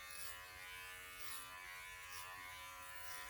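An electric pet clipper fitted with a long comb trims a Schnauzer, buzzing quietly and continuously with a steady motor hum throughout.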